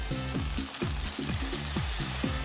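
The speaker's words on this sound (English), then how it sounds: "First ladleful of black stock." Black stock ladled into a hot pan of rice sets off a steady, close sizzle and bubbling frying hiss, with regular low rhythmic pulses running beneath it and no voices.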